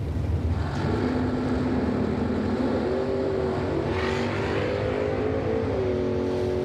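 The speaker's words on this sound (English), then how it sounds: "First generation Camaro side by side." Two first-generation Chevrolet Camaros drag racing side by side at a bracket event, their engines roaring steadily and rising in pitch as they accelerate down the strip, heard from a moderate distance over constant crowd and track noise.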